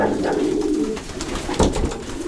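Racing pigeons coo in a breeding loft in Malbork, Poland, with soft repeated coos and rustling close by over steady background murmur and no talk.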